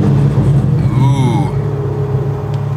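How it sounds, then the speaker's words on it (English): A BMW M4 GT4 race car engine fires up inside the cockpit, a loud, steady low rumble with a brief rising whine, while a person exclaims over it. "actually I'm going to start it now because it's getting quite hot in here"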